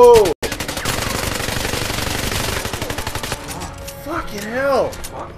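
Rapid automatic gunfire from a James Bond video game, a dense fast burst of shots running for several seconds after one brief silent gap, then giving way to game sound effects at the end.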